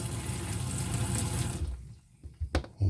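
Water rushes through an RV's outside shower head assembly inside a garage, a steady hiss that cuts off partway, followed by a few brief clanks and knocks.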